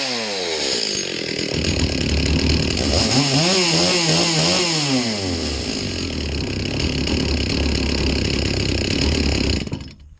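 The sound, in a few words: rebuilt Stihl MS 360 chainsaw running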